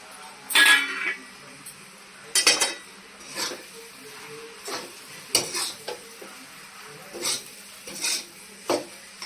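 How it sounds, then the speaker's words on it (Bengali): Bread pieces and fried potatoes stirred in a frying pan: a utensil clanks and scrapes against the metal in irregular sharp knocks over a faint, low sizzle. "এটা একটু নাড়াচাড়া করে নিই।"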